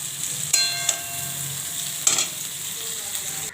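Small shrimp heat and get stirred in a hot pan, giving a steady hiss of frying with a few sharp scrapes and clinks of the utensil, close and alone, with no talking.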